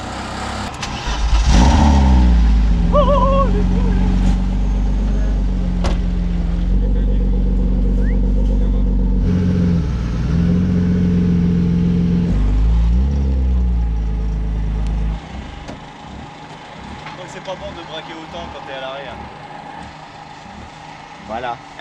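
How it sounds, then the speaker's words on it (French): A drift car's engine at the Top Gear France circuit idles and revs loudly with a thin, buzzy, lawnmower-like tone, holding steady for about fifteen seconds before dropping off, while people talk nearby. "Ça fait un bruit de, de tondeuse ta voiture."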